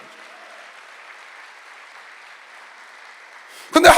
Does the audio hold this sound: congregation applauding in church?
yes